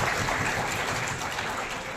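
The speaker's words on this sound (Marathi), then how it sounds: "आपण जोरदार टाळ्या वाजवून स्वागत केलं पाहिजे" A large audience at a women's award and felicitation ceremony claps loudly to welcome a guest, a dense, steady wash of applause filling the whole stretch with no break.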